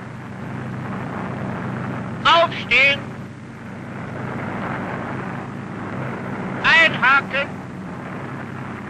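Loud, continuous drone of an aircraft engine through an open door before a military parachute jump in 1957, under shouted commands from a man.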